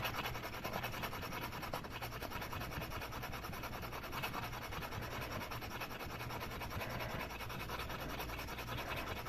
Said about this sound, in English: keep sanding, get that nice, even matte finish